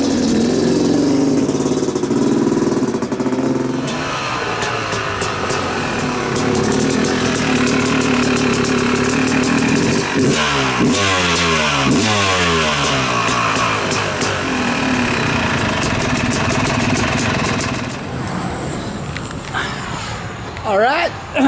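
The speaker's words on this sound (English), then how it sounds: "I got the smart carb installed, running pretty good." Motorcycle engine idling steadily after a smart carburetor was fitted, with a brief burst of faster revving partway through; the idle runs loud and close throughout, with some talk over it.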